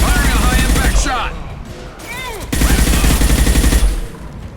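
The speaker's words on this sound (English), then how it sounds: "Firing a high-impact shot!" Gunfire in Mass Effect 2 with dense, loud bursts of shots and heavy impacts, easing off in the middle and then resuming at full intensity, mixed with whooshing effects and game voices.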